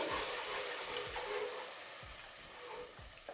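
Milk is stirred in a pan for béchamel sauce for meat lasagna, giving a soft steady sizzle with faint rhythmic scrapes of the spoon, close and quiet, with no talking.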